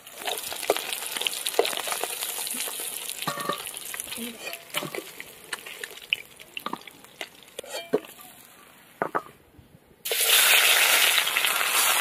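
Pieces of rui fish fry lightly in a pan with a low sizzle and scattered clicks and scrapes from turning, then a sudden loud, rushing hiss takes over near the end.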